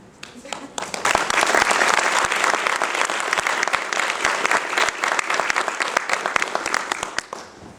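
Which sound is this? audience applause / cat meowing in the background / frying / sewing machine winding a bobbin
audience applause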